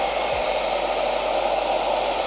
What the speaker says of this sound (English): I never had to use a blow dryer to get a piece on.